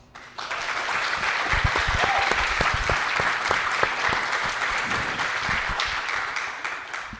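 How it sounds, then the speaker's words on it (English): A group of Health Trust employees in San Jose applauds at a mayor's town hall, steady sustained clapping from a nearby crowd with a faint voice briefly audible. "that clapping you heard is from the very attractive group of employees who work for the Health Trust"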